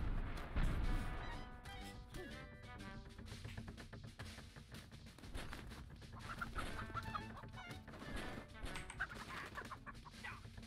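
Chickens cluck and squawk inside the game Alt F4, mixed with crashes and thumps of play, sounding moderately close and busy throughout with no talking.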